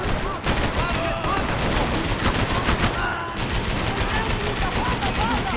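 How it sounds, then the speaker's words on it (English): Relentless gunfire in the Max Payne 3 video game, with dense automatic bursts and bullets whizzing past, loud and continuous from start to finish. "I can't concentrate with bullets whizzing past my head"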